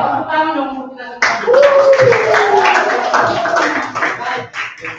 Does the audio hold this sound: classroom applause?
yes